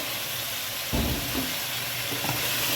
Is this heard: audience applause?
no